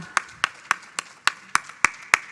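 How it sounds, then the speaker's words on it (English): At a conference session, a small group claps in slow unison, about eight distinct, evenly spaced claps over a couple of seconds, close and crisp with quiet gaps between. "Let's give her a round of applause"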